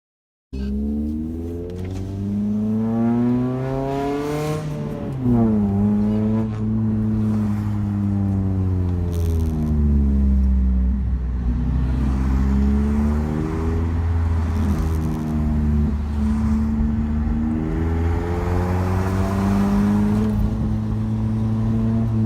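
Loud raspy car engine and exhaust while driving, revving up and down through repeated gear changes, close and continuous for the whole stretch with no talk.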